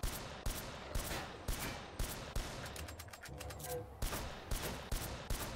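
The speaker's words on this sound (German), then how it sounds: "wir können sie mit unserer Shotgun erschießen" Shotgun blasts at zombies in the VR game Zombie Training Simulator, a steady run of sharp, loud shots at roughly half-second intervals with a brief pause midway, accompanied by someone speaking German.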